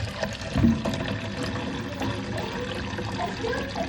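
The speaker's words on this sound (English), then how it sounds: "Okay, now just fill it up with water." Water poured to fill a container for an eel pond, a continuous faint trickling and splashing that runs steadily for a few seconds with no talk over it.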